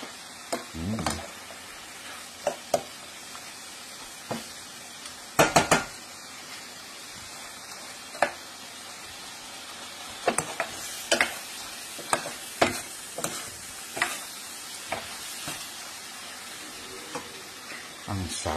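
Shrimp simmering in a dark beer sauce sizzles steadily while a utensil scrapes and stirs the pan in repeated sharp clatters, with no talk.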